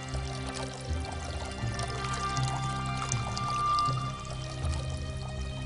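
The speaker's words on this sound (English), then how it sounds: "One jar of water steadily running into another." Ancient Greek water clock, water running steadily from one jar into another: a continuous soft pouring and trickling flow, close and even throughout, with a faint low hum beneath.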